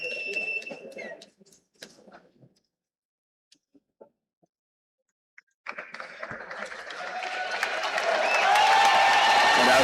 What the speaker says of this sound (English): the crowd goes crazy for Caleb.